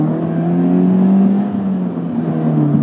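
2017 Subaru BRZ with an aftermarket N1 exhaust, revving in a steady drone that swells slightly and eases off, loud and close with no talking.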